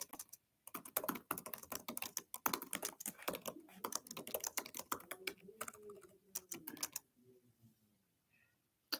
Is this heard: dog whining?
no